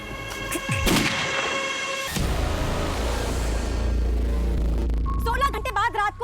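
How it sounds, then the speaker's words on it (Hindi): Two gunshots at night: a sharp loud bang near the start, then another about a second later, followed by a sustained low rumble and noisy background, with a voice briefly near the end. "रात को 2 बजे फिर गोली की आवाज आई है।"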